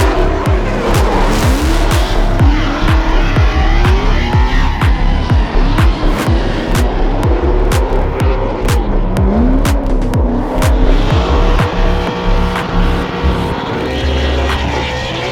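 A high-power drift car slides with tires squealing and smoking while its engine revs hard and repeatedly, loud and continuous throughout, without any voices.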